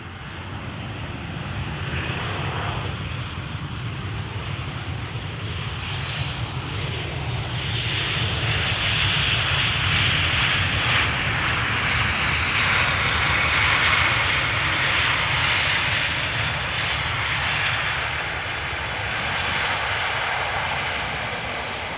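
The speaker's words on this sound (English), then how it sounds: "Speedbird, flight 2824, arriving from London Gatwick. 20-year-old A320." Twenty-year-old British Airways Airbus A320 arriving at Amsterdam Schiphol from London Gatwick, its engine roar building to a loud peak midway and easing slightly toward the end, heard alone without voices.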